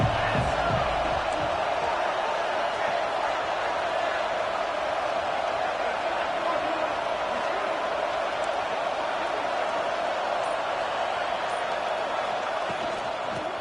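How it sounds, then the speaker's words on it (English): A dense stadium crowd in the college football video game NCAA College Football 26 roars in a continuous, loud, unbroken wash of cheering that holds steady from start to finish, with no distinct voices standing out. "This crowd ready to make its presence known."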